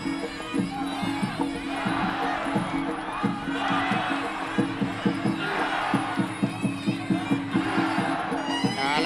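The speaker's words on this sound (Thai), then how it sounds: "ตีตามเสียงเชียร์ของพี่น้องชาวจังหวัดร้อยเอ็ดเลยครับ" A Thai Fight muay Thai crowd in Roi Et cheers loudly and continuously, with rhythmic chants swelling in time with strikes and scattered shouts throughout.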